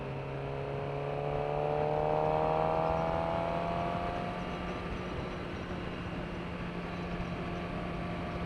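A 2018 Suzuki GSX-R 600 motorcycle engine rises in pitch under throttle, swelling to a peak around the middle, then settles into a steady hum under constant road and wind noise.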